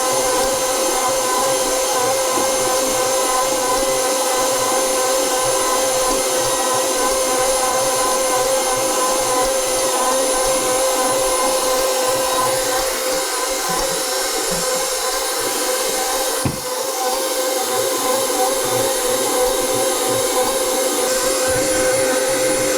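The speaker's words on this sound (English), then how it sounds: "A lot more noise coming out of the KitchenAid" A KitchenAid Pro 600 and a Hobart stand mixer knead bread dough side by side, a loud constant motor whine and hum with steady rhythmic churning throughout, the KitchenAid noticeably noisier.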